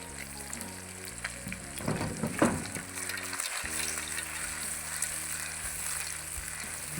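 Minced chicken and beef kofta sizzle steadily in a pan of hot oil, with a burst of louder crackling and stirring midway before the frying settles to an even hiss.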